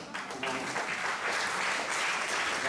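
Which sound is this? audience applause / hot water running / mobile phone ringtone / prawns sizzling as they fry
audience applause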